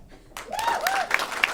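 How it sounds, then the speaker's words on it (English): A comedy show audience breaks into a brief burst of applause and clapping, with a rising whoop or whistle over the crowd. "let me know by round of applause"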